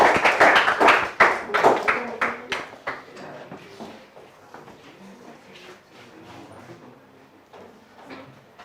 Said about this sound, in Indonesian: Berikan aplaus ya.